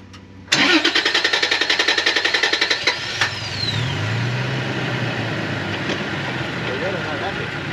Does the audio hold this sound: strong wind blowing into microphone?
no